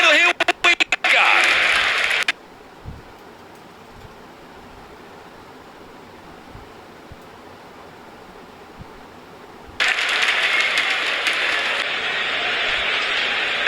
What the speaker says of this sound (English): It's a big round of applause!